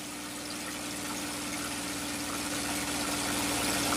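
Steady drone of a P-51 Mustang warbird's piston engine heard from the cockpit as the throttle is pushed forward, a constant even hum that slowly grows a little louder.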